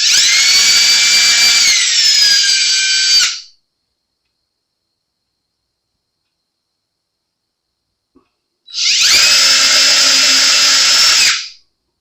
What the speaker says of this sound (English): drill holes where they belong